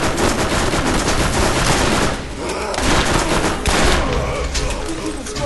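Dense rapid gunfire in the video game Borderlands, loud continuous bursts of automatic shots with brief lulls, filling the whole stretch.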